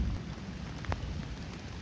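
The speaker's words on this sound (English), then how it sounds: "Unfortunately it started raining right when I wanted to get this brisket wrapped." Light rain falls steadily outdoors beside a barrel cooker during a brisket cook, a soft continuous patter with a low rumbling undertone and no one speaking.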